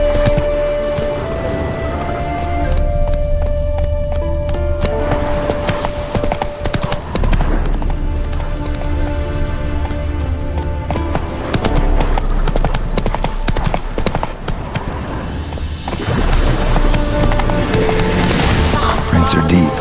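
Roach, a horse in The Witcher 3 video game, clip-clops along at a steady pace under loud, dense game music and ambience, with a jingle of tack now and then.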